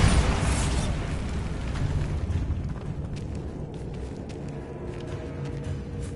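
A Bombarda spell blasts open a barricaded archway in a video game: a loud, booming explosion bursts at the start, then decays into a long rumbling crumble of debris that fades over several seconds.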